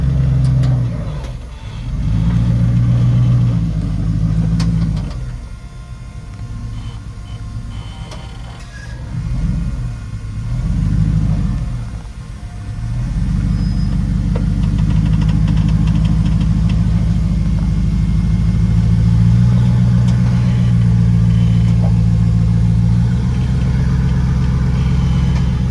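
An off-road vehicle's engine idles and revs steadily as it pivots through a tight turn on a trail, a loud, close, continuous rumble with a few dips and surges.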